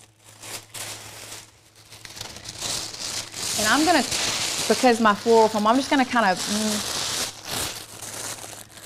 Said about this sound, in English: we're gonna tear it in half and I'm gonna crumple it up